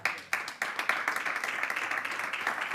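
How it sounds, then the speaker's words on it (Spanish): A church congregation claps and applauds through a Sunday service, the clapping steady and fairly loud, with a few sharper bursts near the start and denser, even clapping afterward. "Den un aplauso al Señor."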